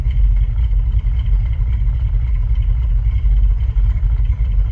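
A 1983 Chevy Silverado with a freshly rebuilt transmission runs in park while raised on jack stands, its engine giving a steady, loud, low rumbling idle with no speech over it.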